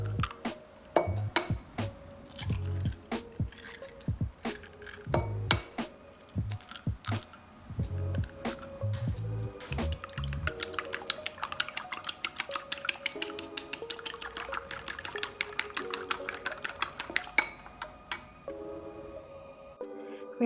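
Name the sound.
cracking eggs into a bowl and beating them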